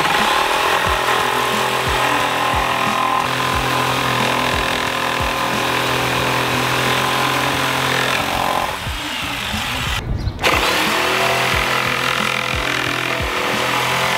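A power saw fitted with a 6 TPI blade cuts through a wooden roof joist for a tiny house, its motor roaring loud and continuous up close, with the pitch dipping briefly as the blade bites and one short pause.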